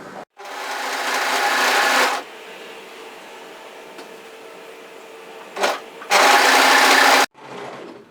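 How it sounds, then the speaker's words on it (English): An overlocker serges the hem of a knit one-shoulder sweater, giving two loud bursts of fast, steady whirring stitching separated by a long, quieter pause of low machine hum. "what we're going to do is overlock from the hem area here"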